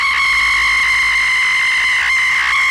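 An old splatter horror film plays back a woman's sustained, piercing scream: loud, shrill and unbroken, with a slight waver near the end.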